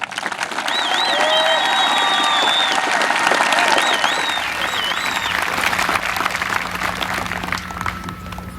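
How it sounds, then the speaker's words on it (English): Sustained, loud audience applause with scattered cheers and whistles honors students at an eighth grade promotion ceremony, holding steady for several seconds before easing slightly toward the end. "Please help me congratulate these students with a round of applause."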